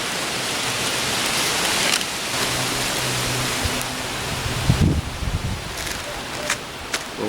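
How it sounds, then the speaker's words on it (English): Wind gusts outdoors at an open-air cooking setup, a loud broadband rushing that buffets close to the microphone, easing and returning with a few thumps and crackles. "Pretty windy today."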